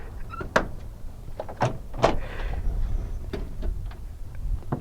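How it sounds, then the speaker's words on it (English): Vehicle doors of a 1987 Dodge B250 eight-door van clunk and slide open, with a few sharp latch clicks and thumps among shuffling handling noise, close by. "we come around to this side and we'll open the doors over here again"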